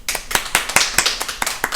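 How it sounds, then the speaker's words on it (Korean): Clapping at the closing of a Bible doctrine school camp, a close, crisp run of about ten sharp claps in an even rhythm, loud and with no voices over it. "박수!"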